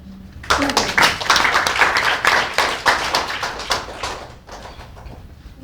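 An audience at an indoor community forum bursts into clapping, a dense burst of many hands that swells quickly, holds, then thins out toward the end.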